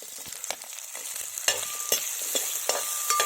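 A spoon stirs chopped ivy gourd frying in a pan for a Kerala-style curry: a continuous soft sizzle broken by repeated scraping clinks, close and fairly quiet, with no voices.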